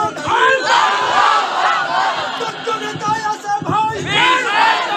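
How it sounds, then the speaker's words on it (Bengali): A large crowd at an Islamic song concert shouts takbir in loud, rhythmic call-and-response bursts, the massed voices swelling and dipping in waves. "দাঁড়িয়ে তাকবীর দেওয়া যাবে?"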